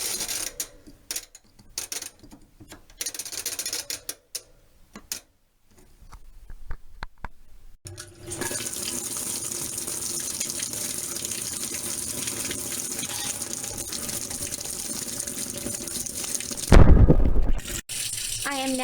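Water gushes steadily into a washing machine filling on a hand wash cycle, a continuous rushing flow after some earlier clicks and handling noises, with a brief louder clunk near the end.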